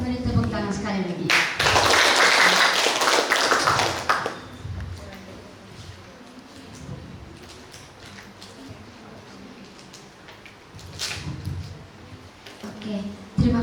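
Audience applause at a university public lecture for science education students bursts loudly for about three seconds, then gives way to a person talking over a quiet room with faint scattered sounds.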